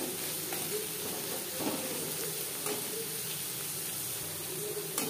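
Onions frying lightly in oil in a pan for chicken bhuna, a steady close sizzle with faint crackles and occasional stirring scrapes, no talking.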